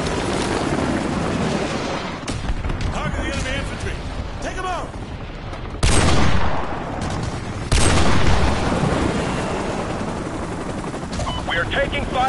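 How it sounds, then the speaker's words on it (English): Heavy gunfire in Call of Duty Modern Warfare 2 Remastered: sustained machine-gun bursts and booming impacts at an evac site, with radio-style voices talking over the loud, continuous battle. "The evac site is still taking heavy fire."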